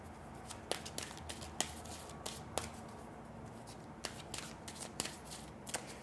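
Oracle cards being shuffled by hand for a fairy card reading, close, quiet riffling with sharp crisp snaps recurring every half second or so.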